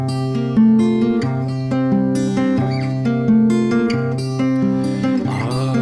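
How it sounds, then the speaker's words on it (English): An antique Martin parlor acoustic guitar played fingerstyle up close, with ringing notes and a warm, full bass under the gentle folk melody of "Scarborough Fair," no voices. "One is a Martin Parlor guitar that I inherited,"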